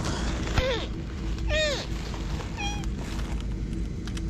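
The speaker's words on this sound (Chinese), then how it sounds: "在这个垃圾桶旁边捡到一只特别小的小奶猫，也是个小三花" A tiny half-month-old calico kitten, found beside a rubbish bin, gives three close, thin, rising-and-falling meows spaced about a second apart over a steady low background rumble.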